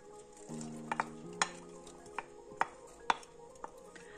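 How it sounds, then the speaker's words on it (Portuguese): Onion, bay leaf and garlic go into a pot of hot olive oil, giving a faint, low sizzle under scattered metallic clinks and scrapes as the mix is stirred. "Já tenho aqui o tacho com o azeite. Vamos Vou então pôr uh, a cebola, o louro e o alho."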